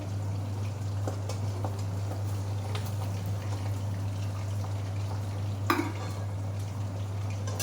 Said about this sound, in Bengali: এই যে মাছগুলো এখন ভেজে নিচ্ছি। আগে পাবদা মাছটা ভেজে নিচ্ছি।